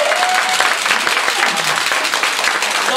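Audience applause at a Toastmasters speech contest, a dense, loud burst of steady clapping from a room full of people, close and continuous throughout.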